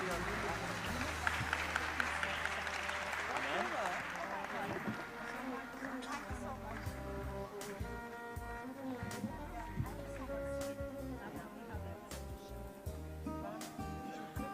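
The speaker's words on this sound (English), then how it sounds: "I expect the audience to give a big round of applause for the Honorable Minister" An audience gives a round of applause for an honorable minister at a formal event; broad, sustained clapping fills the first few seconds, then thins out under other sounds and a voice.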